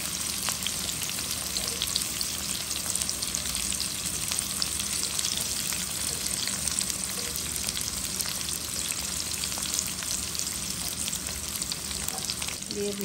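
Tomatoes fry in hot oil with a dense, steady sizzle and crackle that keeps up at an even level, and a few faint stirring sounds come through.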